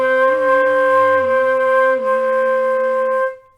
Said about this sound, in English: You can also be doing singing and playing.